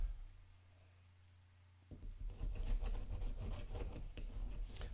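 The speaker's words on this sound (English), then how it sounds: "So what I'm using is called a fid tool. And just use this to burnish your pieces down." A fid tool is burnished over stained glass pieces, making soft, close rubbing and scraping strokes in quick repeated passes that start after a quiet pause, with no voices.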